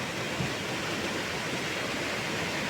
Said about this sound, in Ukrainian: Три рибинки і з рота е, ліється вода.